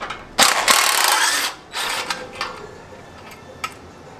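A 14 mm socket ratchet works loose a bolt while a dual 2.5-inch sport muffler is being fitted to a Subaru Impreza, giving a loud burst of rapid clicking followed by shorter, quieter ratchet strokes.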